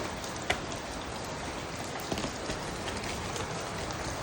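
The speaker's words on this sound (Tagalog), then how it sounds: "Biglang lumakas yung ulan." Heavy rain pours steadily and evenly across the whole stretch, a dense continuous hiss with a couple of brief louder splashes, no voices.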